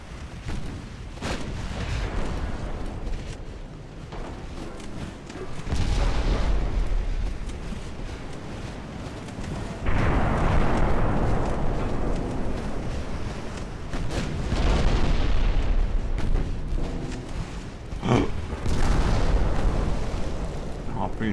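Naval gunfire and shell explosions from a warship battle game, including a French dreadnought firing long-range support: heavy booming blasts and rumbling bursts repeat every few seconds, loud and close, with sharp cracks scattered between.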